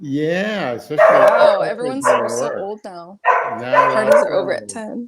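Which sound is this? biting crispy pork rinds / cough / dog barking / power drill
dog barking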